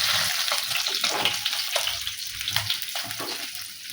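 Fried fish pieces drop into a boiling fish curry with kancha kola, giving a steady bubbling, sizzling simmer with soft splashy movement, close and continuous.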